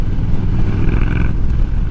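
A cruise-control-equipped motorcycle idles loudly and steadily up close, its engine rumbling with a rough, crackling texture throughout, no voices over it.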